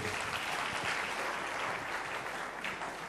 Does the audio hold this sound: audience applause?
yes